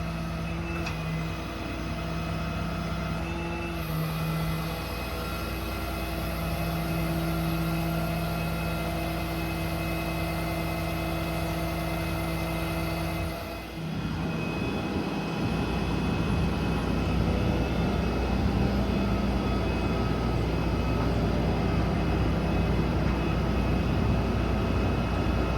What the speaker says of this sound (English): So right now I'm extending out while I winch down.